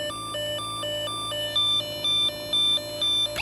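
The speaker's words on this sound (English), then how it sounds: "You can make it sound like a European siren" An electronic Snap Circuits alarm toy set to a European-style siren gives a two-tone hi-lo electronic warble, alternating pitches evenly and getting louder partway through, with no voices.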